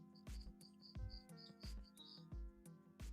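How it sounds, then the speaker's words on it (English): Faint crickets chirp in short repeated bursts under a steady low hum, with soft periodic thumps nearby and no speech. "I can hear the crickets"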